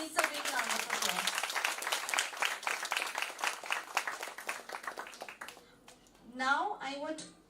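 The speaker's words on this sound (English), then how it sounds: "So I think she needs a big round of applause." An audience at a school science event breaks into a burst of rapid, dense clapping that fades out after about five seconds, followed by a voice speaking.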